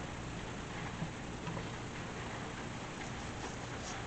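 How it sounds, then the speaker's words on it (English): Steady rain falls outdoors on a cold night, a constant broadband hiss with no breaks, close and moderately loud, no voices. "Oh yeah, look at the rain."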